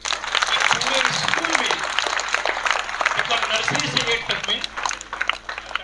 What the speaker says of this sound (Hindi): सृष्टि के लिए तालियां हो जाए।